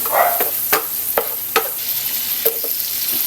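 Pork and shrimp paste stir-fried in a hot pan for a vegetable sauté, a steady sizzle broken by repeated sharp scraping strokes of a utensil against the pan, close and alone.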